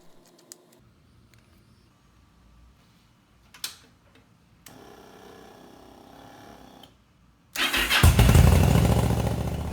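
A motorcycle engine is started and left running after an oil change, a quiet stretch with small mechanical clicks breaking into a loud, steady close-up idle near the end.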